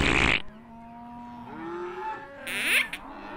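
Cattle mooing in a cartoon about cows and methane emissions: drawn-out, low, tonal calls rising and bending, with a brief burst of noise at the start and another near the end.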